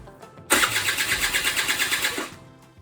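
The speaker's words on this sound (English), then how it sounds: "Just take a flathead screwdriver and push that in, and then try and start your quad." A quad ATV engine cranks briefly and catches, then runs with a rapid rhythmic chugging for under two seconds before cutting off, loud and close with no talking.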